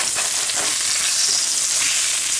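Blackened, spice-crusted salmon skin crisping in a hot pan gives off a steady, loud broadband sizzle with crackling spits throughout, heard alone without talk.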